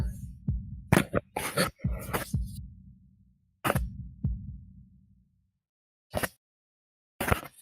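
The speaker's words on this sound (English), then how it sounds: "holding my breath in an attempt to hear my heartbeat." A heartbeat sound effect from the Katawa Shoujo visual novel plays as deep, muffled thumps in double beats, which thin out into sparse single thuds with silent gaps between them.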